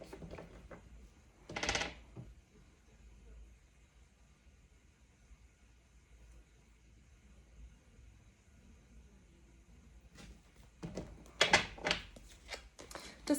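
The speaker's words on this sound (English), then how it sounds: "bear with me while I just shuffle these cards" Soft papery riffling of tarot cards being shuffled in two bursts, near and fairly quiet, separated by a long stretch of faint background hiss.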